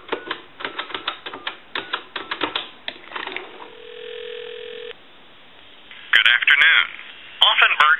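A rapid run of telephone dial pulses clicks out a number on a Western Electric rotary telephone, followed by a steady tone and then a recorded time-and-temperature voice answering over the line.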